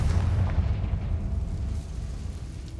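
A Confringo spell explodes in the Hogwarts Legacy video game, a deep rumbling boom that fades out over a few seconds.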